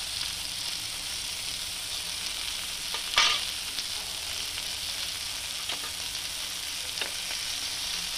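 Tomatoes cook in a pan for a chutney with a soft, even hiss of sizzling throughout, interrupted once by a sharp spatula scrape against the pan and a couple of fainter taps.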